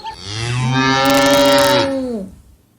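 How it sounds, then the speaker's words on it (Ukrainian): A single long, loud cow moo, drawn out and rising slightly before trailing off, heard close and alone in a quiet setting. "Корова подивилась на нас сумними красивими очима і мокнула."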